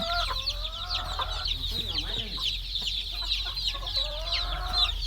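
Domestic backyard chickens kept alongside laying hens cluck repeatedly and close by, with overlapping calls over a steady low hum and occasional faint voices.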